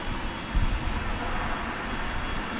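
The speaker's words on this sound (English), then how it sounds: "Southwest Jet is landing here, but no, it's Sun Country" Sun Country jet landing at DFW Airport, a steady, fairly faint engine roar heard from a distance, with a brief low rumble early on.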